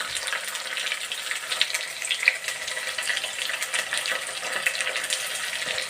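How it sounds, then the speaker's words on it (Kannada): Onion and curry leaves fry in a pan for a bendekayi palya, a steady close hiss and crackle of sizzling oil that runs continuously and evenly, with no speech. "ಇದನ್ನು ಹುರಿಯೋಣ ಚೆನ್ನಾಗೆ."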